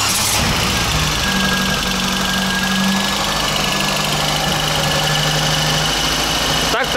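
A BMW car engine catches and settles into a steady, close, rumbling idle with a constant mechanical hum throughout.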